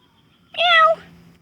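A cat in labour gives a single loud, close, drawn-out meow, strained and tonal, followed by quiet.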